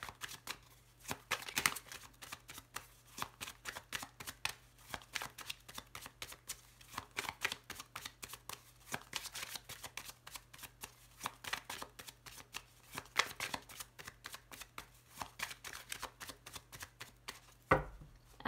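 Tarot cards riffled and cut by hand, a steady run of crisp flutters and snaps close up, with a sharper slap near the end.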